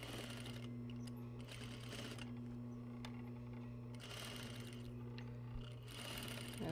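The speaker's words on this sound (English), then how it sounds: "Begin the seam with a back tack." A sewing machine runs a basic apparel seam with a back tack at the start, sewing in steady bursts separated by short pauses over a constant low hum, close up and with no voices.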